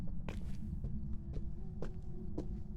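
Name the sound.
ghost footsteps in the video game Phasmophobia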